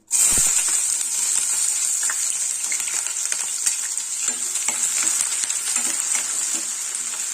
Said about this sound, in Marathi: सो कांदा छान आपल्याला असं परतून घ्यायचं आहे